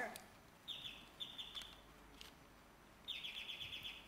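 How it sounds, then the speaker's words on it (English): Short bright electronic chirps repeat in a few bursts against a quiet background, a bird-like beeping signal. "So one's a doorbell and one's a bird chirping."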